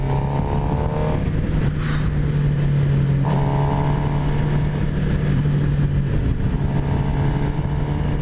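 A 2018 Suzuki GSX-R750 sport bike engine pulls hard in fourth gear, a loud continuous drone with steady rising revs, heard close from the rider's position with wind rush underneath.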